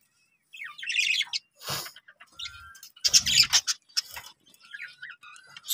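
Pet budgies in a cage chirp and chatter in short, bright bursts with brief pauses between them, loud and close, with no talking.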